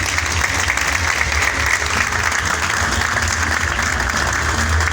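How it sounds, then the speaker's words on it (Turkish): Audience applauding the actors on stage at a film gala premiere in a theatre hall, a steady, dense wash of clapping from a large crowd filling the whole stretch at even loudness. "sahnedeki bütün oyuncularımızı şöyle bir alkış alabilir miyim?"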